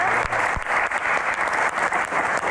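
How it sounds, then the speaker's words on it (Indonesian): Applause for university students at a Q&A event on hajj quotas, a brief continuous burst of crowd clapping, loud and steady, with a couple of low thumps at the start. "Tepuk tangan."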